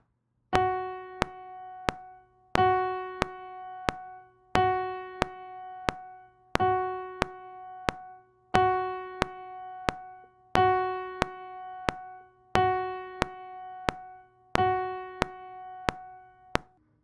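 Piano notes struck one at a time at an even, unhurried pace, each ringing out and held for three beats before the next, with no talking.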